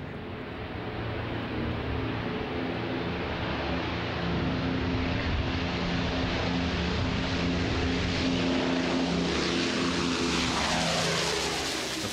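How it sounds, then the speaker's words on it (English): An Avro Lancaster bomber lifts off the runway, its piston engines and propellers producing a loud, steady, rumbling drone that holds continuously throughout with no voices. "the column is eased back and the Lancaster gently lifts off the runway"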